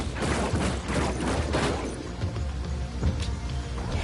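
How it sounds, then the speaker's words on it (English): Grenade launcher fire in Death Stranding 2, a burst of heavy booms and crashing impacts packed close together, loud and near, thinning out toward the end. "a grenade launcher"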